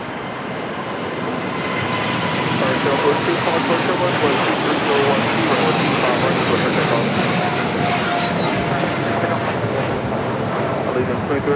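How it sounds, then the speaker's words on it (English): An airliner lines up for takeoff on runway 25 right at LAX, its engines making a steady, broad roar with a wind-like rush that holds constant throughout, while indistinct voices murmur faintly underneath. "Big Q lining up for a takeoff on 25 right."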